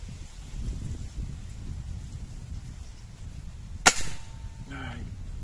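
A single sharp crack of a Hatsan HT135 gas ram air rifle shot breaks a quiet outdoor background of soft rustling, followed by a faint ringing impact.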